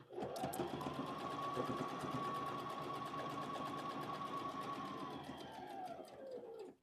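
A sewing machine stitches fabric along the presser foot while making a wallet, running as one steady, continuous whirring hum from start to finish and stopping abruptly at the end, with no talking over it.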